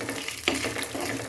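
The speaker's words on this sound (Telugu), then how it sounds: "ఇప్పుడు మనం ఎండుమిర్చి యాడ్ చేసుకోవాలి. మంచిగా మిక్స్ చేసుకోవాలి." Dried red chillies being fried and stirred in a pan while making rawa pongal, a brief close sizzle with a light scrape of the stirring spoon.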